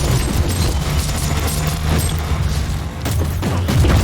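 A grenade blast and battle din in the action RPG Warhammer 40,000: Inquisitor, with loud continuous booming and crackling impacts over a dense, rumbling low end, swelling again near the end.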